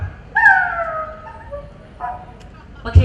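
A performer imitates a poor household's dog barking at a Kerala school arts festival mimicry contest, giving a drawn-out whining, tonal howl followed by shorter yelps, close and clear, with a thump at the end.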